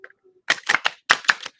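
A deck of cards is given a thorough shuffle up close, heard as crisp, rapid riffling bursts in two quick runs separated by a short pause, with no talking.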